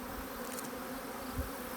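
Honeybees crowding onto a protein patty under a bee escape, giving a steady, close, dense buzzing drone that holds evenly throughout without speech.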